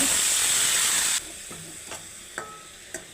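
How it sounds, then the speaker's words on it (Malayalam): Chopped onions with salt sauté in a hot pan for an egg curry. A loud, hissing sizzle fills the first second, then drops to a quieter fry broken by a few sharp scraping clinks of stirring. "ഉപ്പ് നേരത്തെ ഇട്ട് ഉള്ളി പെട്ടെന്ന് വഴണ്ട് കിട്ടുക"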